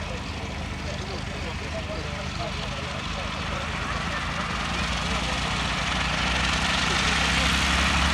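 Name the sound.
Hawker Nimrod Mk.1 biplane landing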